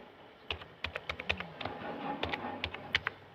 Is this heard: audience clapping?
no